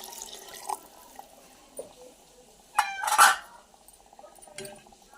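Water is splashed into millet flour for dough, a short trickle and pour in the middle amid scattered clinks and quiet handling noises.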